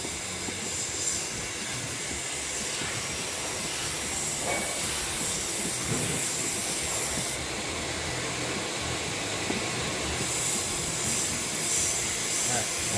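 Walnut blasting carbon off engine intake valves produces a loud, continuous hissing blast of air and grit, steady and unbroken for the whole stretch.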